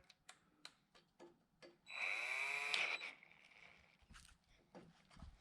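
A power drill boring holes for a pulling tractor, one sustained whining burst of about a second at close range, set among scattered knocks and handling clatter.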